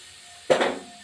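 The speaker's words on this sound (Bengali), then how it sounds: "এবার আমি প্যানে তেল দিলাম।" Oil hits a hot frying pan that still holds some water and breaks into a sudden crackling sizzle, which swells quickly and then settles into a steady hiss. It is close and moderately loud, with no voices.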